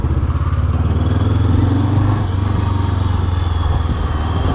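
A Morbidelli T502X 500cc motorcycle drones loudly and steadily on a test ride, its engine note close and continuous with a slight rise and fall in revs.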